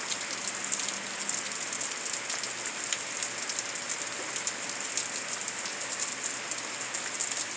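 Steady rain falls and patters on surfaces, a dense, even hiss with small drip ticks throughout, nearby and without speech.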